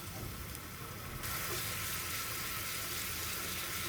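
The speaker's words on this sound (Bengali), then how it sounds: "এবং মশলাটা খুব ভালো করে কষিয়ে নিব" Spices sautéing in a pan for a brain (mogoj) curry give off a loud, steady sizzle and hiss that holds unbroken throughout, with no one speaking over it.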